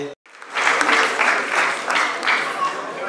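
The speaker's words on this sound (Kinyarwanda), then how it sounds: "Reka bakumpere amashyi bagushimire" A crowd gives a sustained burst of applause at a celebration gathering, with dense overlapping claps swelling and holding steady for a few seconds, fairly close and full.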